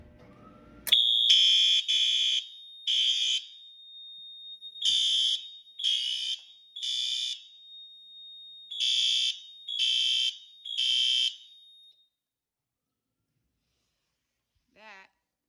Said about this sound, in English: let's pull the fire alarm